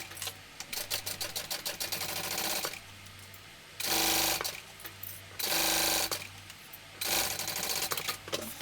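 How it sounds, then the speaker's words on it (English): Sewing machine sewing an exterior fabric seam at full seam allowance, heard close up as rapid rhythmic stitching runs that alternate with louder whirring bursts, no talking. "this is going to get sewn at the full seam allowance"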